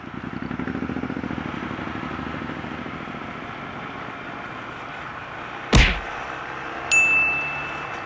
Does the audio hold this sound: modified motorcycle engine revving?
yes